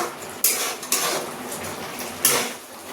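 A metal lid comes off a pot of cooked chicken curry, sharp clanks of metal on metal at three moments over a soft background hiss, with no voices.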